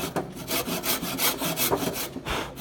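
A handsaw cuts through wood in quick rhythmic strokes, about a dozen rasping pushes and pulls, close and fairly quiet, with no talking.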